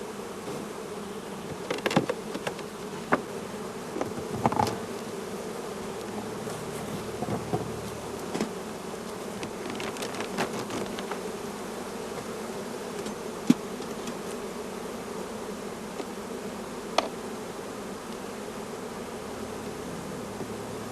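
Honey bees hum steadily on brood frames being moved between hives, a continuous close drone with occasional sharp knocks and handling clicks.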